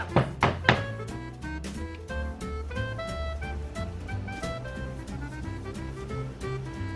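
A soap mold filled with rebatched soap is banged down on a surface, giving a few quick hollow thunks at the start, followed by a lingering ringing tonal wash.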